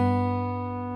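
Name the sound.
guitar second (B) string plucked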